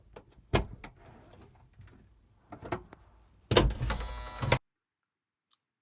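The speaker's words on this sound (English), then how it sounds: "I just pull that up and that opens up the door" Several soft clicks and clunks as a minivan's sliding door is unlocked, then a loud sliding rumble of the door opening for about a second before stopping abruptly.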